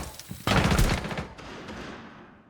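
A rapid burst of video game gunfire breaks out after a quiet start, a dense crackling volley at moderate level that tails off into a fading echo.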